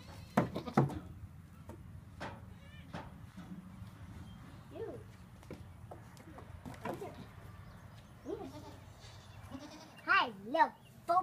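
Goats bleat in a pen, among them a newborn kid, with several wavering bleats scattered through the clip and a louder cluster near the end, while people talk quietly nearby.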